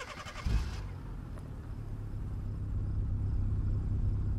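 A tuned car engine with a burble tune in the game BeamNG.drive turns over and catches, then settles into a deep, steady rumbling idle that slowly swells slightly louder.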